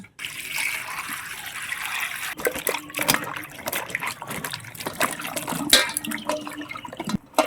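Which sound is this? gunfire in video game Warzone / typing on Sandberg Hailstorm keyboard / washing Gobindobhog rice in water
washing Gobindobhog rice in water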